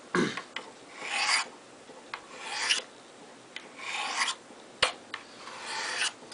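A knife blade is drawn in repeated rasping strokes across Spyderco Sharpmaker ceramic stones, about eight even swipes close up, with a sharp tap partway through.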